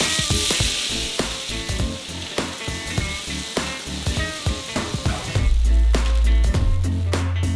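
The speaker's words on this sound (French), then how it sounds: "Il faut remuer tout le temps pour que les cacahuètes grillent uniformément." Raw shelled peanuts roast in a pot over a gas flame while being stirred constantly, giving a loud close sizzle with rhythmic scraping and rattling clatter, which grows heavier near the end.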